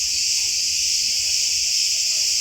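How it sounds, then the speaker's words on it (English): A continuous, high-pitched drone of cicadas in trees buzzes evenly throughout, loud and unbroken, with faint sounds beneath, at Knossos Palace, Crete. "He's looking for the cicadas that are feeding on the sap on the trees."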